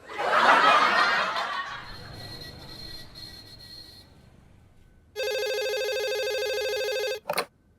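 A telephone rings in a steady electronic burst for about two seconds, then cuts off with a short final chirp, following a stretch of faint chuckling and quiet room noise in a Hindi comedy scene.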